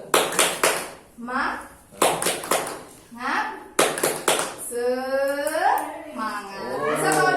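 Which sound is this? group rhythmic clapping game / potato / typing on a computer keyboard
group rhythmic clapping game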